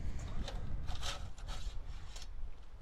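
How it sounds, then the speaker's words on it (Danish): Screws are loosened on a grill rotisserie basket for roasting pork: close, rhythmic metallic scraping and rubbing in short repeated strokes at moderate loudness. "Løsner skruerne."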